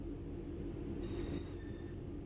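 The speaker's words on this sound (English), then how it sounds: "Bring this train to a complete stop by moving the power brake handle into the braking range." Train running in Train Sim World 4: a steady, fairly faint rail rumble with low rolling hum throughout and a brief thin squeal of wheels partway through, no voices.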